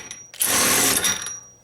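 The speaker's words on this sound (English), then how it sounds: "So first we're going to try to go ahead and remove this by loosening it up, and go ahead and watch the socket when I release it." A Makita XWT02 18V brushless cordless 1/2-inch impact wrench loosens a fastener in one loud, close burst of about a second, then stops abruptly under its electric brake.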